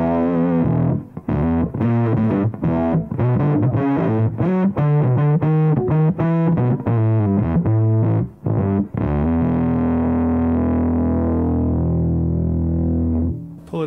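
A bass guitar plays a busy riff through an MXR M85 bass distortion pedal set to LED mode, giving a loud, gritty, saturated tone of rapid notes that ends on a sustained held note.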